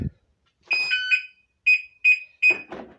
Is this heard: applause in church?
no